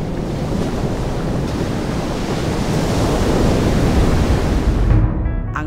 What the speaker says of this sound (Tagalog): Kung saan ang tunog ng dagat,